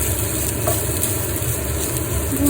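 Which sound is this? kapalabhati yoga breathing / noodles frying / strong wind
noodles frying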